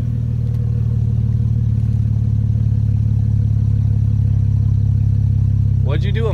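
Straight-piped Cadillac CTS Coupe idling with a deep, loud, steady exhaust rumble throughout, a brief voice rising over it near the end.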